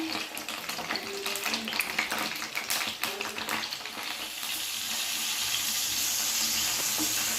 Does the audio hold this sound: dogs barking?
no